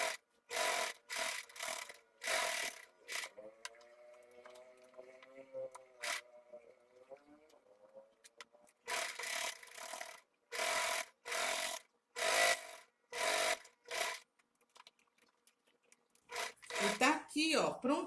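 A sewing machine stitches the border of a cotton dish towel made with chita fabric, running in loud, even bursts of rapid needle chatter with short pauses between them. A voice comes in briefly during a quieter stretch.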